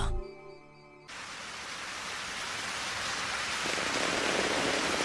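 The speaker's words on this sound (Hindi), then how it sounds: "लीजिए, बारिश शुरू हो गई।" Steady rain begins after a brief quiet moment, a dense hiss of falling water that stays even and fairly loud to the end.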